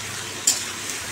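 Ridge gourd and potato curry with panch phoron and green chilli sizzles in a pan with a steady, close frying hiss and a faint clink partway through.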